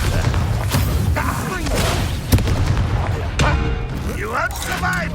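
A Bombarda explosion spell in Hogwarts Legacy goes off as a loud blast inside dense, busy combat noise, with a voice shouting over the fight.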